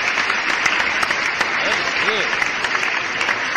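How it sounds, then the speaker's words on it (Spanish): Canned applause sound effect played on a stream, a steady wash of crowd clapping and cheering at moderate level throughout, with faint tonal sounds partway. "voy a poner los aplausos"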